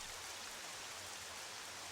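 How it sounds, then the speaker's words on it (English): Rain falls steadily in the video game The Legend of Zelda: Twilight Princess, a soft, even hiss of drops with no break. The sound is quiet and fairly distant, with no other sound over it. "Why is it now just constantly raining?"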